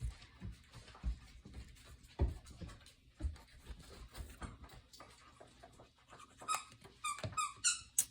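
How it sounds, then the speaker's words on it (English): A dog plays with squeaky toys indoors, with soft thumps and shuffling throughout and a cluster of sharp, high squeaks near the end. "she has discovered squeaky toys"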